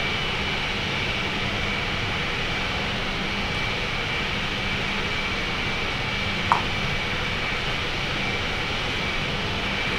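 An Airbus A380 landing at Los Angeles in a flight simulator game produces a steady, even jet engine roar with a faint whine, unbroken apart from one brief click.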